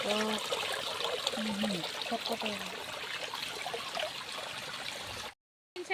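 A thin stream of spring water trickles steadily beneath a voice, which speaks throughout, before the sound cuts out briefly near the end.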